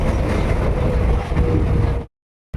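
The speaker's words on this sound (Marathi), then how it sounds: "आमची ट्रेन आलेली आहे" A Mumbai local train pulls in with a loud, continuous rumble and roar close by. The roar cuts out abruptly near the end, then resumes.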